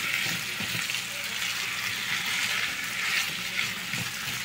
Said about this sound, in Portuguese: Já dei uma dourada no alho. Agora vamos dar uma mexidinha aqui para não queimar.